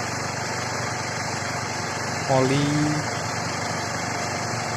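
An automatic scooter engine idles while warming up, a steady, fairly quiet hum running throughout, with one short spoken word partway through.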